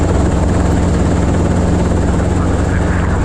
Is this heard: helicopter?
yes